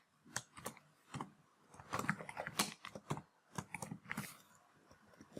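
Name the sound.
typing on a computer keyboard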